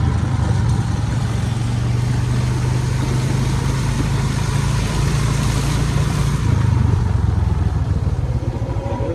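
A motorcycle engine running steadily and loudly up close as it rides through floodwater on a road after heavy rain in Jaffna, with a constant low rumble and rushing, sloshing water throughout.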